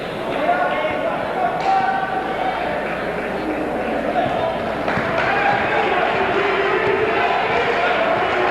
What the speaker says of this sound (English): Bishop Kendrick fans trying to cheer on their defense here.